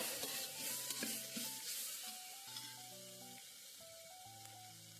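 Chopped vegetables frying in a pan for vegetable khichdi, a faint, steady sizzle with soft stirring under louder background music.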